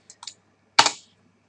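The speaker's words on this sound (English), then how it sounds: "we can search for strategies by typing in the three-letter symbol of the currency" Typing on a computer keyboard on a trading platform: a few light, quick taps followed by one louder, sharper key strike, close by, with no talking.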